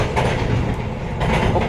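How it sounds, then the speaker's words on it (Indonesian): A container freight train running from Tanjung Priok to Kalimas, Surabaya, passes close by with loud rhythmic clatter of wagons and wheels, a dense rushing roar that swells at the end. "ini kita papasan dengan kereta api barang peti kemas dari Tanjung Priok tujuan Kalimas, Surabaya"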